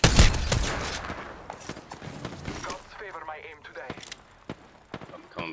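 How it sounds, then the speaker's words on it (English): Gunfire in Apex Legends, with a charge rifle discharging among several sharp, loud shots and bursts during a tense match, followed by scattered mechanical clicks and in-game effects. Players talk over it. "That's a charge rifle."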